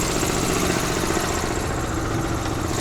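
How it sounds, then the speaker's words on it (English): An air impact gun runs continuously to cycle tool oil through it before a tire change, a loud, steady, dense mechanical roar with no pauses and no talk. "So we gotta get our air tool oil cycled through our gun."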